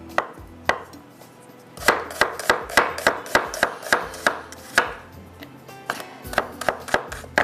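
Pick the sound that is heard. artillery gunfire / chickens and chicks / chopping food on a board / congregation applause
chopping food on a board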